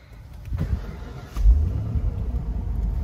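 A 1994 Ford Mustang GT convertible cranks and catches about halfway through, settling into a close, steady low rumble at idle with no talking.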